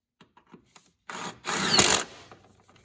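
A bolt is tightened on a Ford Fusion front strut: a few faint ratchet clicks, then a loud whirring burst of a power tool lasting about a second, followed by light metallic clicks.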